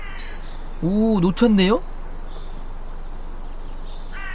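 Regular cricket chirps from the video game We Become What We Behold pulse steadily throughout, with a brief voice speaking over them midway.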